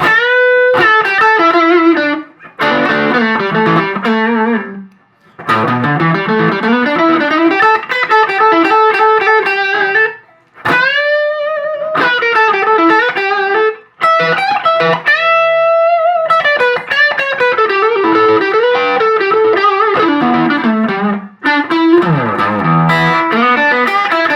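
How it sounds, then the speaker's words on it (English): An electric guitar plays a lively blues-rock run of notes and chords through a mildly overdriven Tech 21 Plexi pedal, loud and dry with no reverb, with brief pauses between phrases. "here's the Tech 21 Plexi pedal. So I don't have it set too heavy."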